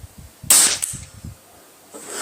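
Weihrauch HW97K air rifle firing a pellet, one sharp crack followed by a brief clatter, close and loud against a quiet background with faint low thumps.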